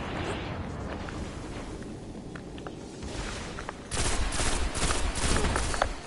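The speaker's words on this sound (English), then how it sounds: "There's only 2 gunshot sound effects." Rapid gunfire from the video game Destiny, a steady stream of shots that turns louder and denser in the second half, with no talking.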